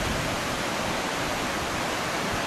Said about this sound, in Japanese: これがスニベルの滝の滝口で、そこから海に向かって落ちています。